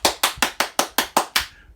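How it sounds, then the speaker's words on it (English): One person claps a round of applause in eight sharp, evenly spaced claps close to the microphone. The last clap rings out into silence. "I give you a round of applause for making this happen for us."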